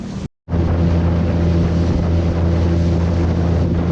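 A motorboat engine drones loud and steady, with wind buffeting the microphone, after a brief dropout near the start.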